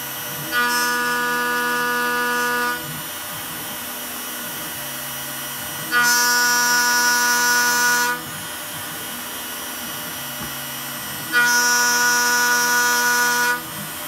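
A TiCN-coated endmill cuts aluminum on a Makita spindle, three loud bursts of high-pitched tonal chatter about two seconds each with a steady spindle whine and low hum continuing between them.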